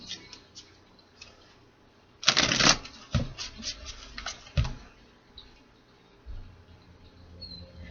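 Tarot cards riffled and shuffled by hand in a short close burst, then a run of lighter flicks and taps as the deck is squared, with quiet pauses on either side.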